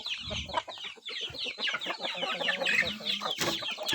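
Chickens clucking busily close by, a dense overlapping flock of short cackles and calls running continuously, some loud and near, with no talk.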